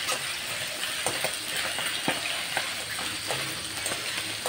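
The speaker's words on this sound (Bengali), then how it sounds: "যে মাছ ভাজি দিয়েছি" Fish frying in a pan, a steady soft sizzle with scattered crackles and spitting pops, fairly quiet and close, with no talk over it.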